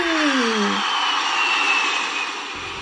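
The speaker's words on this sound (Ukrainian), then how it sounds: "Я пропоную здійснити подорож на літаку." A broad airplane flyover roar fills the whole clip, loud and steady, with a descending whistle-like tone at the start and a slowly gliding whine above it before it eases off slightly at the end.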